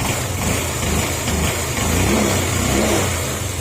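Car engine running after a repair, close and loud, rising and falling through quick revs over a steady mechanical drone.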